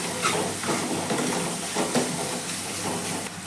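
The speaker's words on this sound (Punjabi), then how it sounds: "ਹੁਣ ਇਹਦੇ ਵਿੱਚ ਆਪਾਂ ਪਾ ਦਵਾਂਗੇ ਜੀ ਟਮਾਟਰ" Tomatoes dropped into hot masala in a pan give off a loud, steady hiss and sizzle that holds throughout, with faint bursts of spattering and no voices.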